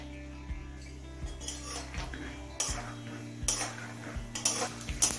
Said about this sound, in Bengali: এবার 1 মুঠো চিনেবাদাম ভেজে নেব।